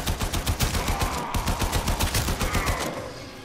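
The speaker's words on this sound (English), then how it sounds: "Ein bisschen Geballer brauchen wir immer." Rapid bursts of gunfire from the Warframe video game rattle in a steady, fast rhythm, loud and close, running continuously with no talking.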